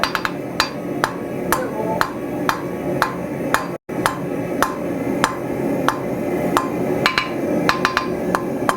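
Hammer blows ring out on a metal leaf being forged on an anvil, sharp, close strikes in uneven bursts with brief pauses, some quick runs of several hits, over a steady forge roar.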